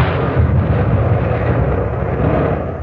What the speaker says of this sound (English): the A and B turrets were firing away beautifully,